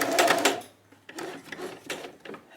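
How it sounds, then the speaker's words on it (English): A sewing machine back stitches at the end of a quilt binding on a table runner, with a loud burst of stitching followed by softer, shorter runs of the motor, close and alone. "I'm going to just back stitch."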